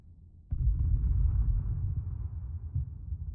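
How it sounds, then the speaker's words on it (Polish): A bomb in H1Z1: King of the Kill explodes with a sudden deep boom that rolls into a low, rumbling roar, fading slowly over a few seconds. "Bomby wpadły właśnie tutaj."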